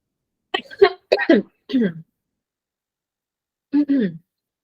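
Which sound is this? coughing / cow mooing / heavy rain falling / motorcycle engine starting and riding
coughing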